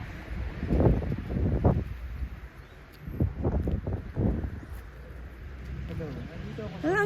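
Strong wind buffets the microphone in gusty low rumbles during a walk near old church ruins in the historical town of Pabellón de Hidalgo, with a voice speaking intermittently.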